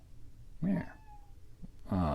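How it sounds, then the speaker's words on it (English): A house cat gives two clear meows indoors, close and fairly loud, separated by a short quiet pause, with a brief soft sound between them. "But if you can hear her meow"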